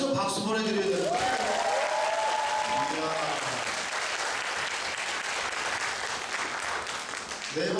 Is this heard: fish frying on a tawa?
no